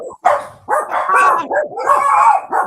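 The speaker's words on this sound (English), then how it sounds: "The dogs are going crazy." Dogs bark loudly and repeatedly in a rapid, overlapping burst with some yips, close by and filling the whole stretch.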